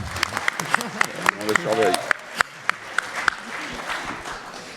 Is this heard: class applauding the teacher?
yes